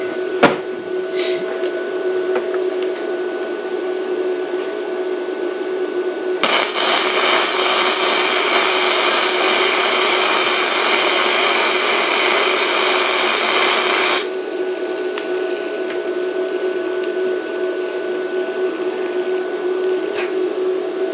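A Bestarc MIG145 MIG welder laying a bead on a corner joint, a loud steady crackling hiss that starts abruptly, runs for about eight seconds over a constant hum, then cuts off.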